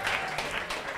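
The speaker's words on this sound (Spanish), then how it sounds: "Aplausos para Trainer" A short, steady burst of applause for a contestant named Trainer, a dense wash of clapping that lasts about a second without pause.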